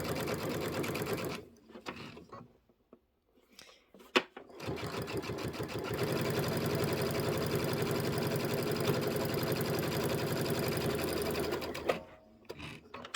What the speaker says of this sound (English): Let's back stitch and let's stitch forward.